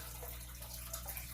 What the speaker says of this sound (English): One is an over the top, right? So that's why it has a waterfall noise